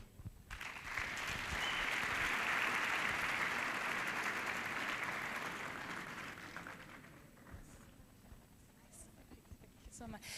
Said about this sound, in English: A huge round of applause for Nalipa.